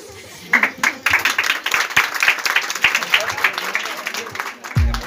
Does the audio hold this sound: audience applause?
yes